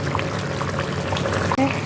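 Water poured into a simmering katla fish gravy in a pot, giving a continuous close wash of pouring and bubbling. It ends with a brief dip and a short clink.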